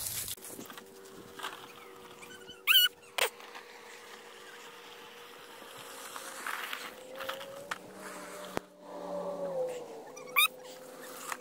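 A cat gives a few short, sharp meows and cries outdoors near a pile of leaves, faint against a quiet background with light rustling and insect-like buzzing.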